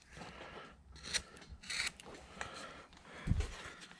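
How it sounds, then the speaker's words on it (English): A number 11 gouge cutting into a wood carving of a farmer, several short scraping and rasping strokes at close range, quiet and separated by brief pauses. "you just take a big gouge like this number 11"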